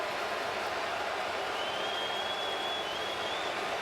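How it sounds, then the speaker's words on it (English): A dense, loud roar from a big football stadium crowd at a CFL game between Winnipeg and Saskatchewan, steady broadband noise that fills the whole stretch with no letup and a faint whistle-like tone drifting through midway. "Near impossible to hear with this crowd"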